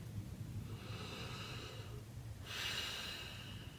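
Slow, audible breaths in and out during an EFT tapping session. The breathing is near and fairly soft, with one long inhale followed by a stronger, airy exhale, and no talking.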